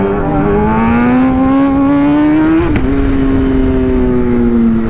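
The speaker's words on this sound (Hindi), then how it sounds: "हमारे पास भी बैक फायर है भाई" Superbike engine revving hard and close, a loud rising and falling exhaust note with a sharp crack of backfire midway.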